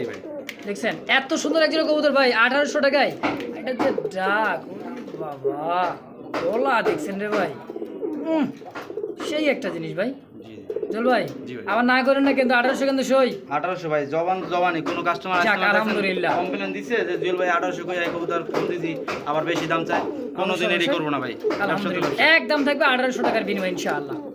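Pakistani high-flyer pigeons coo continuously and close by at a pigeon sale, their throaty rolling calls overlapping with someone talking throughout.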